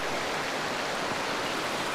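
Steady rushing of little waterfall cascades, an even broadband wash of falling water heard close and alone.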